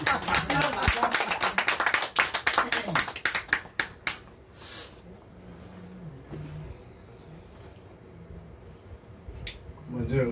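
A church congregation claps for an elder at a Korean Bible seminary gathering, brisk applause for several seconds that thins out into quiet room noise, later a voice speaking.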